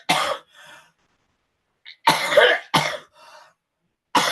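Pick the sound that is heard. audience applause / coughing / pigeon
coughing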